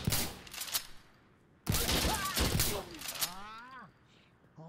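Shotgun blasts from the video game Insurgency Sandstorm, a few sharp reports split by a pause, with a louder burst of fire in the middle and a player's shouts over parts of it.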